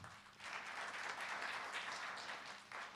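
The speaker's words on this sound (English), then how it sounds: "Can we please have a round of applause for all of them?" A round of applause for the panelists at a private equity panel discussion, with fairly faint, distant clapping from the audience that stays steady for a few seconds.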